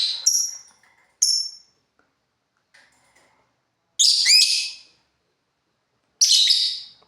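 Two lovebirds give sharp, high chirps and squeaky calls in short separate bursts with quiet gaps between them, close and clear, with no talking.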